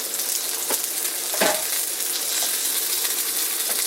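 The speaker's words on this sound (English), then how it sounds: "You hear that sizzle?" Breaded chicken sizzles steadily in a hot cast iron pan, a constant loud crackling hiss with a few brief scraping stirs, close up.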